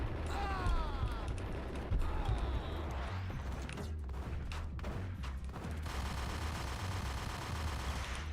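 Gunfire in Max Payne Remastered, a dense clatter of shots amid loud, busy action noise with scattered sharp bursts and a heavy rumbling background.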